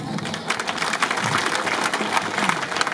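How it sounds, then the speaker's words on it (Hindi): A crowd applauds a Rajasthani folk dance performance at the opening of a district sports competition in Jalore, with a continuous wash of clapping from many hands at moderate distance. "लेकिन तालियों की गड़गड़ाहट में"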